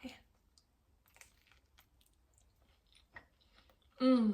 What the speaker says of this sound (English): Let's give the pizza a try.